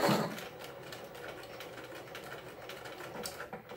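Close sewing machine running a straight stitch along a pencil case, a steady continuous mechanical whir after a brief louder start, with no talk.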